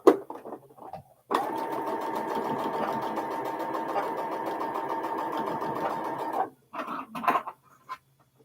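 Domestic sewing machine stitching while chain piecing quilt blocks, a steady fast whirring run of about five seconds between short pauses and handling noises, close and moderately quiet.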